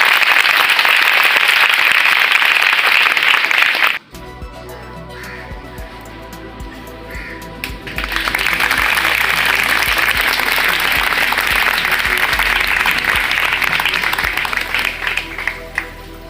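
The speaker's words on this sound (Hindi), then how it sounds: "एक बार जोर से ताली बजाकर" Loud applause from a large crowd at an NCC camp training event in a Home Guard training centre, filling the first four seconds, breaking off into a quieter gap, then returning strongly and continuing to the end.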